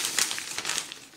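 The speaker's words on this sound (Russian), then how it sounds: "Да, я порвал пакетик." Thin plastic packet crinkles and rips apart while a parcel of small items from China is unpacked, a quick series of close, sharp crackles over about a second.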